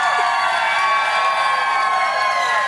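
A tennis crowd at a tournament match cheers and whoops in a steady, loud wash of noise, with no talk over it.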